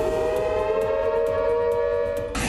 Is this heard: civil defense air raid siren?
yes